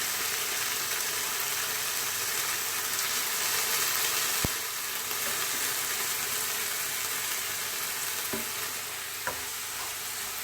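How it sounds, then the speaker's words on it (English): Tomatoes fry in a pan for a vegan lentil curry, giving a steady, close, loud sizzle throughout, with a few faint clicks of stirring and no talking. "So now I'm going to add my tomatoes. I want my tomatoes to like fry out nicely"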